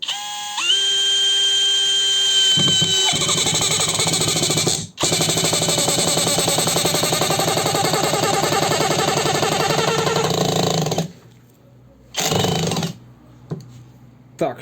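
A Ronix 8900K brushless impact driver drives a 120 mm screw into boards, giving a loud, close, continuous whirring rattle for about ten seconds. A brief dropout interrupts it, and it ends in a few short bursts.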